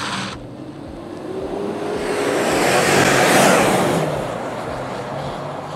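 A BMW 745i E65 saloon accelerates, its engine note swelling from a steady hum to a loud, rising peak around the middle before easing off again, heard alone without any talk.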